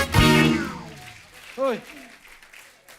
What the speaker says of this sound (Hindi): एक बार जोरदार तालियां तापसी और ताहिर के लिए।